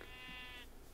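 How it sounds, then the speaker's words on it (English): Sheep bleat in Minecraft, a sustained harmonic bleat lasting most of the second over a steady low background hum, fairly loud and close. "Lots of sheep,"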